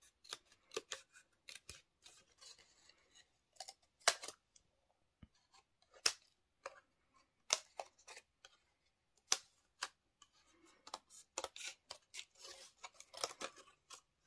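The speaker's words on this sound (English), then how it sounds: "you can just start by kind of snipping them just around that edge" Scissors snip around the edge of die-cut paper aspen trees for a watercolor craft, with quiet, irregular cuts coming in short clusters and pauses, close and faint.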